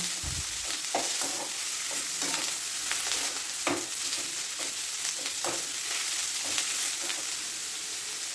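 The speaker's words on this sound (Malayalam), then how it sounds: "സവാള പെട്ടെന്ന് വെന്ത് വരാൻ വേണ്ടിയിട്ട് കുറച്ച് ഉപ്പ് ചേർത്ത് കൊടുക്കാം എന്നിട്ട് ഒന്നുകൂടെ ഒന്ന് വഴറ്റി കൊടുക്കാം" Chopped onions with a little salt sautéed in a pan for egg curry give a steady sizzle, broken by soft irregular scrapes of a spoon stirring, close up with no voices.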